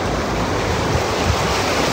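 Overflowing river floodwater during flash floods in Leicester, a loud, steady roaring rush with wind buffeting the microphone and no voices.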